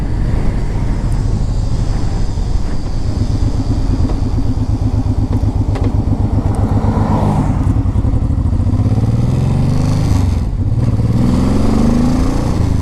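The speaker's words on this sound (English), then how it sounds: "this is a good running bike" A shaft-driven Honda VTX 1800 motorcycle runs loud and steady, its deep engine drone pulsing evenly with a brief dip in revs near the end, heard alone without talk.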